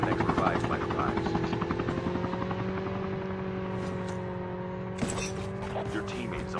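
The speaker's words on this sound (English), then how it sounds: "I'm gonna try to grab this chopper right here." Helicopter in a battle royale video game, a loud steady rotor thrum with rhythmic chopping pulses and engine whine close by, game voices speaking over it.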